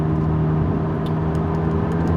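A McLaren 570S fitted with an aftermarket exhaust system runs at a steady, smooth drone, a close and constant engine hum with no speech over it.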